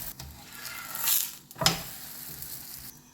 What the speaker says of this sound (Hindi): अब हम इसको तवे पे डालेंगे।